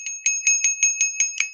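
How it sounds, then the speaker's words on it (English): A new bell rung eight times in a steady, evenly spaced series, each strike bright and ringing, close and clear with no talking. "Let's get out our new bell that my beautiful wife ordered for us."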